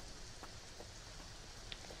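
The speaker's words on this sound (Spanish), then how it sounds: "Y sigue lloviendo." Steady, soft rain in The Sims 4 patters continuously with occasional faint drips, a quiet, even wash of sound without voices.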